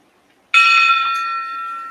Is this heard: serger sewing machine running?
no